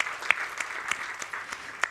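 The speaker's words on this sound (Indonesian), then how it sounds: "Oh kita beri tepuk tangan dulu kalau gitu." A church congregation applauds at a Sunday service, a moderate room-filling patter of many hands with a few sharper claps standing out, heard at a distance and without talk.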